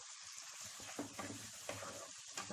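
Chopped medium tomatoes sizzle in spiced masala in a pan over medium flame, a constant hiss with soft scraping stirs every second or so, close and quiet.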